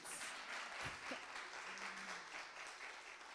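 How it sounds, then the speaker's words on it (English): Audience clapping at a book launch, a steady wash of applause from a seated crowd, moderately loud and continuous, with a brief low thump and a faint hum partway through. "We can keep clapping our hands."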